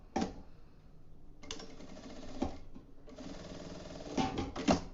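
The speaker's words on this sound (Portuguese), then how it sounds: "eu vou passar uma costurinha aqui, ó, só na parte reta, bem na beiradinha, só para segurar os materiais" Domestic sewing machine running stitch along the straight edge of fabric pieces for a compact wallet, whirring in several bursts with short pauses between, close and clear.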